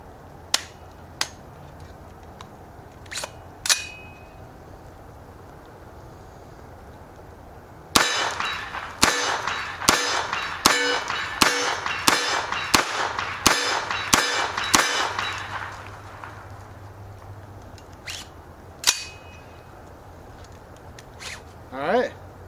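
A .45 ACP AR-15 rifle firing Norma hollow point rounds from a Glock magazine at a range, a fast string of about nine sharp, loud shots in quick succession, preceded and followed by scattered clicks and handling noises.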